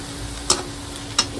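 Onion frying in a pan gives a steady low sizzle, punctuated by two sharp metallic taps of a spatula against the pan about a second apart.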